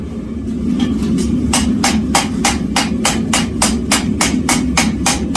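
Hammer blows set a forge weld at a blacksmith's anvil, struck in a steady, rapid rhythm of about a dozen sharp, ringing impacts over a low background roar, close and loud.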